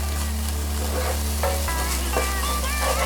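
Onions sizzling as they fry in a pan, a dense crackling hiss over a steady low hum, with a few stirring scrapes and tonal clinks along the way.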